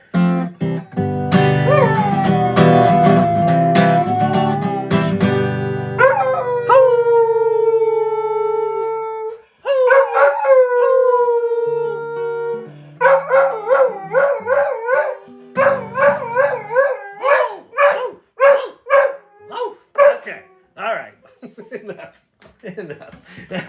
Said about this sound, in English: That's a good singing dog.